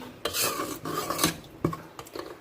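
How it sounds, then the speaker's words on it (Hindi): Semolina roasting in ghee while being stirred, giving a close, gritty scraping against the pan in several short strokes with brief pauses and no talk. "अब इसे हम हल्का सा गोल्डन करेंगे, इसकी भुनाई करेंगे सूजी की।"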